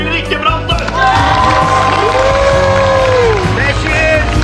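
Audience at a Norwegian televised singing show claps and cheers loudly, a dense crowd roar with whistles and shouts layered over continuous applause throughout.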